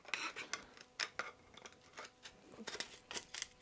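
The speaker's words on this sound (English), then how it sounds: "The fastest way to clean off the glue is just with a file." A hand file scrapes old glue off an antique wooden chair during restoration, a series of faint, uneven rasping strokes repeating close to the microphone in a quiet room.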